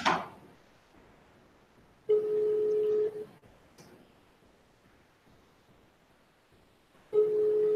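Ringback tone of a phone call connecting to an online meeting: two long, steady electronic tone bursts a few seconds apart, with near-silence between them.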